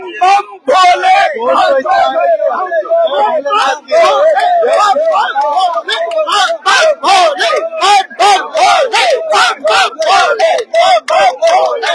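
A large crowd of pilgrims on the first day of the Amarnath Yatra cheers and chants in loud, rhythmic collective shouts, close and continuous with repeated swells.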